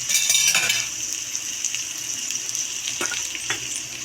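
Masala-stuffed okra frying in oil in a pan, a bright steady sizzle with crackling pops and a few soft stirring clinks, close and loud.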